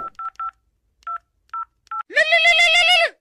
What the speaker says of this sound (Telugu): వానికన్నా ఫోన్ చేద్దాం.